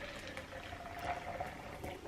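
A liquid is poured into a plastic color-changing cup, giving a faint, steady trickling and bubbling that runs softly throughout.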